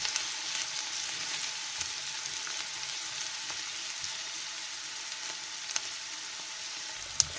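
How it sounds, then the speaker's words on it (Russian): Onion frying in a pan for a zucchini and mushroom stew gives a steady, even hiss of sizzling oil, close and continuous, with a couple of faint clicks near the end. "Первым делом обжариваем лучок."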